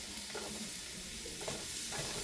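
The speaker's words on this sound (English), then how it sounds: "You know that the temperature is good because it sizzles as soon as it hits the oil." Chopped onions hitting hot oil in a pan for homemade moose goulash, a loud, steady hissing sizzle with faint stirring scrapes underneath, no voices.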